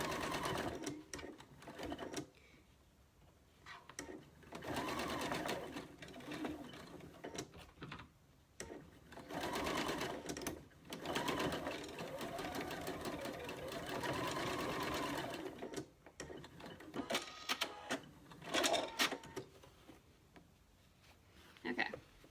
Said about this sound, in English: I just sewed that up on the machine right there